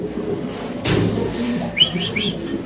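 Fancy pigeons coo in a few soft, near calls, with a brief rustle or flutter partway through and higher chirps near the end.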